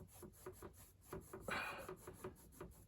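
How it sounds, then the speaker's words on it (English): A brush scrubs water-mixable oil paint across canvas, giving soft, rhythmic rasping strokes close by, with a brief louder, denser scrub in the middle. "I'm kind of scrubbing that way."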